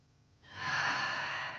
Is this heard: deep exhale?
yes